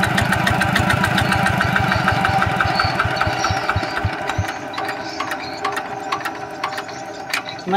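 A motorbike engine idles close by with a rapid, even mechanical ticking and knocking that thins out partway through to lighter clicks.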